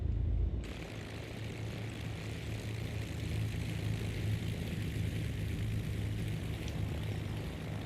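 A Beechcraft Baron 58 taxiing with its propeller engines running in a flight simulator game: a steady, droning propeller hum with a low rumble that holds at an even level throughout.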